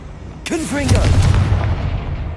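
A Confringo spell in Hogwarts Legacy bursts with a sudden loud blast, followed by swooping magical tones and a rumbling, crackling tail that lingers for over a second.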